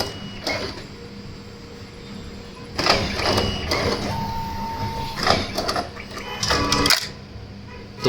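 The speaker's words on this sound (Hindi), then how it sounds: "इस तरह से देखिए फ्रंट एंड बैक आगे पूरी तरह से प्रिंट हो रहा है" An Evolis Primacy 2 card printer running a double-sided print job, with mechanical whirring, clicks and card-feed clatter that come in bursts and rise and fall, heard close up with little talk.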